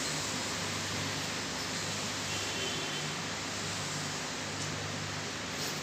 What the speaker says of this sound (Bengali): অনেক বাতাস বাইরে এবং অনেক সাউন্ড হচ্ছে।